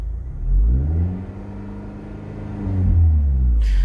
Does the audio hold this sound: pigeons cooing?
no